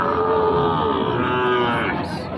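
A young Sahiwal calf moos in a long, drawn-out, tonal call that rises and wavers, close and loud over steady farmyard background noise.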